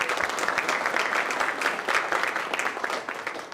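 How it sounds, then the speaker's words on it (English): An audience at a community conversation on reading instruction gives a steady round of applause, dense clapping that holds fairly loud throughout, then eases off slightly at the end. "Can we please give a round of applause?"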